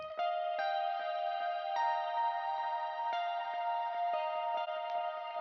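Sustained guitar notes ring out in a wash of heavy, shimmering reverb set about 80% wet with modulation, soft picked attacks blurring into long, swelling tails.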